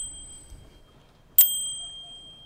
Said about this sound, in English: That's the bell there for it.